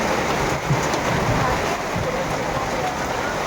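Heavy rain pours down steadily and loudly, a dense, unbroken hiss of drops hitting surfaces nearby for the whole stretch.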